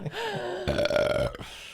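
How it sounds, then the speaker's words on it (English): A long, drawn-out burp with a croaking, rippling tone, loud and close, ending in a short breathy tail. "As I burp."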